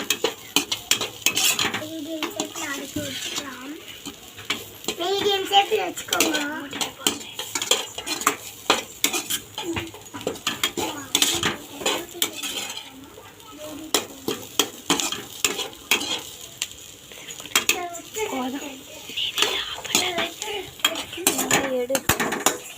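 Masala being stirred in a hot pan, with repeated metal utensil scrapes and clinks against the pan over a steady sizzle of frying, close and busy throughout.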